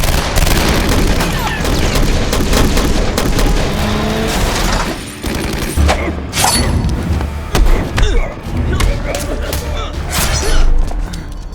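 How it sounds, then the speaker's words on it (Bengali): Gunfire rings out in a chaotic movie shootout between soldiers and armed men during a lawless night, with booming shots and thuds layered over dense, continuous action sound and music at loud, steady level. "বাহিরে গোলাগুলির আওয়াজ শুনে লিও বেরিয়ে আসে এবং গোলাগুলিতে যোগ দেয়"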